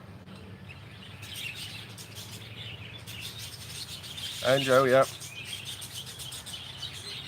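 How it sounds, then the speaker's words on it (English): Birds chirp and twitter through a steady background, with a brief louder burst of calls near the middle and a few words spoken. "The birds are over there eating their breakfast. So they make that same noise 24/7."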